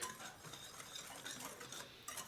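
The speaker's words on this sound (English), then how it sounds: "I'm just going to give this a good whisk." Flour, salt and white granulated sugar being whisked in a bowl for peanut butter bread batter: a quiet, continuous fast scratching and ticking of the whisk against the bowl, close up with no talking.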